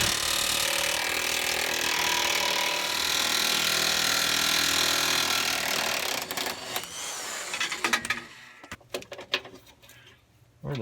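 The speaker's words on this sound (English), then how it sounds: "now I'm going to jack this up and get the good access to the bolts." A truck being jacked up gives a loud, continuous mechanical whir and grinding that stops after several seconds, followed by scattered clanks and metallic knocks.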